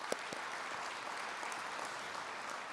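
A civic audience at a State of the City address bursts into applause, a dense, steady wash of clapping sustained from start to finish at moderate distance.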